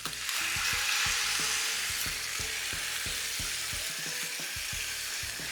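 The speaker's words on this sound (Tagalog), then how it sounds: "Tapos itutuloy ko lang yung pagprito." Beef slices frying in a hot pan for Filipino bistek, a steady close sizzle with occasional soft stirring scrapes and taps, no talking.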